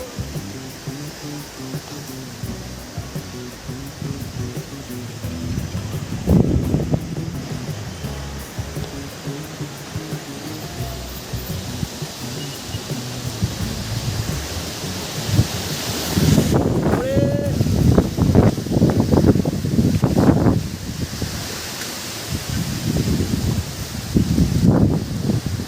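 Gusty wind blows through village trees before a rain storm, a continuous rushing roar with rustling leaves and strong microphone buffeting surges, under occasional talk.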